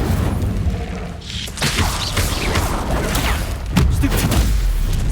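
An Incendio fire spell cast in Hogwarts Legacy bursts with a loud, rumbling whoosh of flames amid heavy thuds and crashes of combat, dense and continuous throughout.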